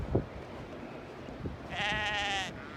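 A single sheep, stuck in snow, lets out one clear wavering bleat close by near the end, after a quiet stretch with faint shuffling.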